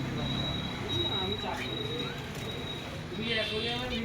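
Budgerigars and finches in a pet shop chatter continuously with thin chirps and warbles, close and busy, under someone talking throughout.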